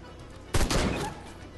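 A single loud gunshot from Sang-Froid: Tales of Werewolves fired at an attacking werewolf cracks out sharply after a quiet lead-in, followed by a brief rumbling tail and echo.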